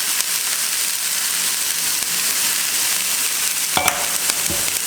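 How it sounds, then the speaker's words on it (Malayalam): Water poured onto a hot cast-iron dosa griddle for Kerala-style thattu dosa, giving a loud, steady sizzle and hiss that holds throughout, with a couple of short clinks near the end. "ഇനി നമ്മുടെ ദോശക്കല്ല് എപ്പോഴും നമ്മൾ ചൂടൊന്ന് ക്രമീകരിക്കാൻ വേണ്ടിയിട്ട് അല്പം വെള്ളം ഒഴിച്ച്"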